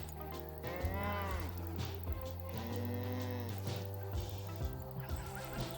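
A cow lowing in a cozy PS5 video game, with long, drawn-out, wavering calls repeated several times over a quiet game background.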